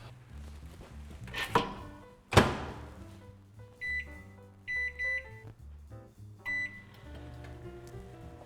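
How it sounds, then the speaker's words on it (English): Microwave oven heating a Hungry-Man turkey dinner: clunks and a door thud, a steady low hum, then a run of short high electronic beeps, heard close and fairly quiet. "And into the microwave it goes."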